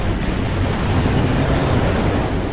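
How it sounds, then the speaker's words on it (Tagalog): Sea waves washing onto a sandy beach, a steady loud rushing surf with some wind noise on the microphone and no voices. "Dito tayo sa tabing dagat. Init ng dagat."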